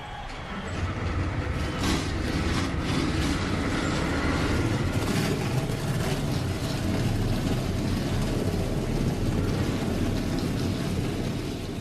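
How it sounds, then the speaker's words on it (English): Many NASCAR race car engines start up and idle together at Bristol in a video game, a dense, steady, loud roar of rumbling motors throughout. "Ladies and gentlemen, start your engines."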